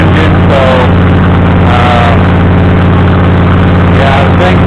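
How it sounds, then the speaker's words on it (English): A Predator engine fitted to a Cub Cadet lawnmower runs loud and steady through a reused old muffler, a continuous close idle with a deep throbbing drone that holds level for the whole stretch, while someone talks over it. "yeah, the thing's kind of loud, but it's a lawnmower, not a damn Cadillac."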